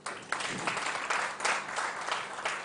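Steady clapping from an audience at a university science, technology and innovation symposium, a continuous patter of many hands heard at a moderate distance with no talking over it.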